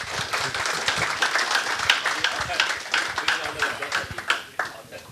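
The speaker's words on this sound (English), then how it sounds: "I request a big clap for all of them." Audience applause for panelists after a book release and panel discussion, a close, lively patter of hand claps with uneven rhythm, moderately loud and continuous for a few seconds.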